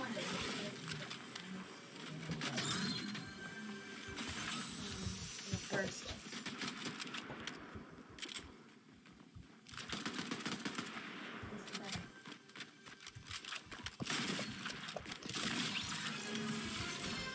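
Rapid bursts of Combat AR rifle fire in the video game Fortnite, repeated clusters of sharp shots spread through the clip, mixed with game sounds and excited talk from players.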